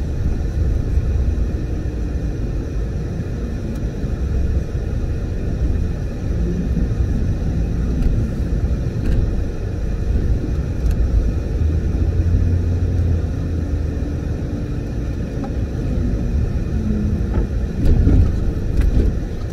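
A 1998 Ford Explorer drives in four-wheel drive high on a parking lot, producing a continuous low engine and road rumble heard from inside the cab, steady and moderately loud, with no talk.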